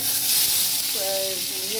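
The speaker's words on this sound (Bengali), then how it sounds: "ভাজা হয়ে গেছে পাঁচ ফোড়নটা" Continuous hissing sizzle of panch phoron whole spices frying in hot oil, close up, with a brief voice speaking over it partway through.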